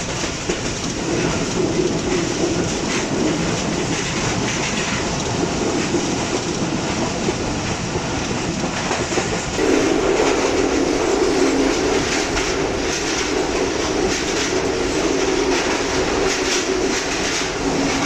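A Pakistani express train, the Hazara Express, passes close by on the line while the Shah Hussain Express runs alongside. A steady, loud rumble of wheels and clickety-clack fills the whole stretch and grows heavier partway through.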